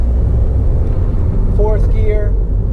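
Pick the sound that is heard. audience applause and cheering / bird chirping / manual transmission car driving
manual transmission car driving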